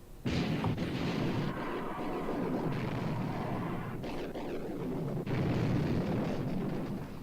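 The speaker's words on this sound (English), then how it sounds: "All turrets ready to open fire, sir. Open fire." Main gun turrets of a World War II battleship, HMS Prince of Wales engaging the Bismarck, opening fire in heavy, sustained booming blasts that roll into one another and fill the whole stretch.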